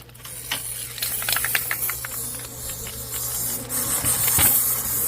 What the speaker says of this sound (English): So this spray adhesive knocks down the guards